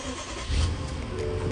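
A 2014 BMW 750Li xDrive M Sport with 107,000 miles fires up, giving a brief, steady engine rumble and broadband roar that holds level for a moment.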